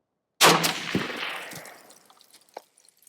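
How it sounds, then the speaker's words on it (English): Two rifle shots from a DSA Gen 2 battle rifle at a target 200 yards away, a loud sharp crack with a long ringing outdoor tail, a second softer report following about half a second later. "I fired off 2 rounds at the body of the target from that distance of 200 yards"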